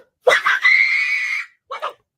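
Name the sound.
woman screaming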